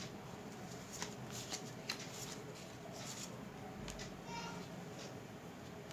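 Tarot cards shuffled and drawn during a pick-a-card zodiac reading, heard as soft, close, papery riffling with quick flicks and slaps scattered through the stretch, low in level against a faint background hiss.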